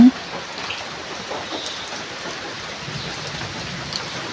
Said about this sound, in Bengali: পড়তাছে ঝুম বৃষ্টি